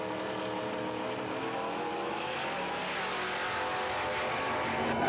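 A Ford Mustang race car at a drag racing event, a loud continuous engine roar held at high revs throughout, with no voices over it.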